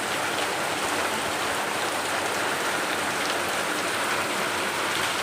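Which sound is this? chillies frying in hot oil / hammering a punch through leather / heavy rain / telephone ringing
heavy rain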